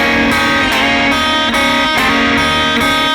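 An electric guitar plays a slowed-down sliding blues lick, with loud ringing notes struck in a steady repeating pattern about every 0.4 seconds and no talking.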